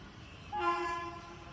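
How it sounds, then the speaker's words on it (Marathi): A train horn sounds once as a train arrives at a railway station, a single sustained blast rising suddenly out of quiet background noise and fading after about a second. "फायनली रेल्वे आलेली आहे"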